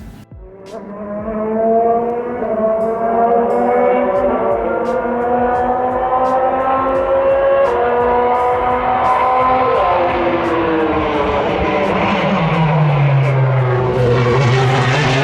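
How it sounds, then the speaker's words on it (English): Corvette C8.R race car with a V8 engine revving hard, a loud, sustained exhaust note with rising and falling pitch as it accelerates and shifts, heard alone without voices. "Just take a moment to revel in the C8R's race car exhaust note."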